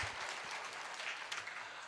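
A church congregation claps for the pastor after a sermon, a brief, fairly faint patter of applause filling the room.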